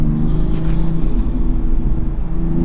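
Brand new Toyota Supra in sport mode, its engine giving a loud, steady low rumble with slight fluctuations in pitch, heard close up with no talking.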